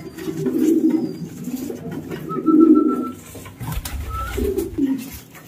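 Racing pigeons at their loft, including breeding females, give soft, throaty coos in several rolling bursts, close and clear, with a few faint higher chirps between them.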